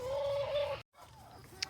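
Chickens clucking inside a summer backyard coop in Indiana, a steady close hen call running nearly a second, then a brief silence and quieter scattered clucks with a short sharp chirp near the end.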